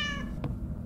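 A cat in the game Summer of '58 lets out a short meow, brief and fairly clear, followed by a faint tap over a low rumbling background.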